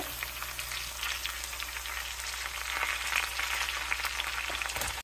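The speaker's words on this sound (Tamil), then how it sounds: "இது இஞ்சி பூண்டு பேஸ்ட் நல்லா சூப்பராக ஃப்ரை ஆகுது" Ginger garlic paste frying in a pan with onion and curry leaves gives a close, steady sizzle that crackles evenly for the whole stretch, with no voices over it.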